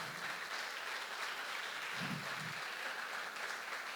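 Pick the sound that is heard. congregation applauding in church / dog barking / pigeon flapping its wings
congregation applauding in church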